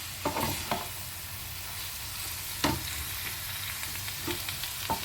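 Drumstick stems frying with turmeric and green chili, sizzling steadily in the pan while a spoon stirs and scrapes, giving a few sharp clacks against the metal.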